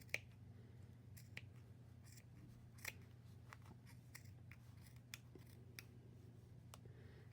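Scissors snip through several layers of denim jeans being cut for a tattered journal cover: sparse, crisp, faint clicks spaced irregularly over a low steady hum.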